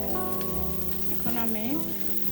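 Vegetables stir-frying over high heat for Chinese-style chicken veg noodles, a constant sizzle of hot oil under a brief clattering stir, with some tonal background sound running alongside.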